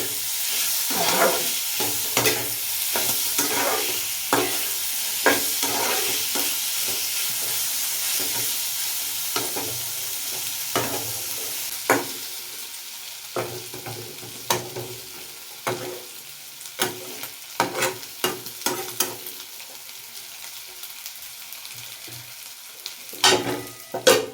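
Banana flower with pigeon meat being stirred and fried in a pan: a steady sizzle with repeated scraping stirs that grow sparser and more distinct toward the end, close and clear with no talk.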